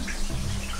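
Shower running in a one-star hotel bathroom, a steady, close hiss of spraying water that stays constant throughout the short moment.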